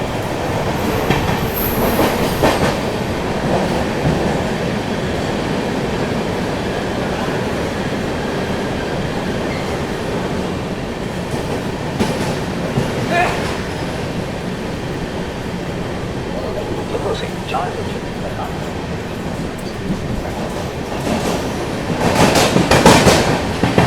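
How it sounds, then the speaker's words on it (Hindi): From on board the 12621 Tamil Nadu Superfast Express, heard as it runs through Ramagundam railway station at speed: a loud continuous rumble and rhythmic wheel clatter, with brief metallic squeals and rattles that intensify at the end. "अपनी तमिलनाडु सुपरफास्ट एक्सप्रेस यहाँ पर स्किप करने जा रही है रामागुंडम रेलवे स्टेशन को।"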